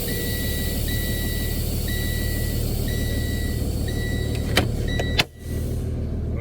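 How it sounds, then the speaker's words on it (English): A CDL practice truck backs up with a steady engine idle, while a repeating electronic reversing beep, a high tone pulsing about once a second, runs throughout; a sharp clack and a brief air-brake hiss come near the end. "I'm going to back up, put the vehicle back in the position."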